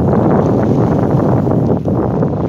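Strong wind buffets the microphone on a cold fishing outing with a continuous low, rumbling roar that barely lets up.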